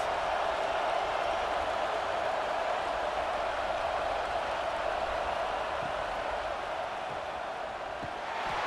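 A steady, even roar of a stadium crowd from EA College Football 26, in a simulated Auburn at Texas A&M game, holds at a moderate level as a continuous wash with no breaks.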